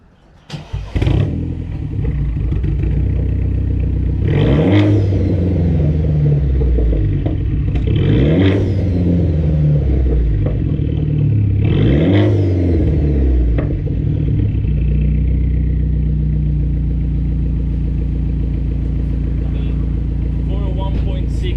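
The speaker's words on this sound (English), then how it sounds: "So yeah, I'll let you guys hear the exhaust, but you probably heard it already a few times." A BMW with a 1.6 engine and custom-welded straight-pipe exhaust starts and revs three times, each loud rev rising and falling back to a deep rumbling idle close by.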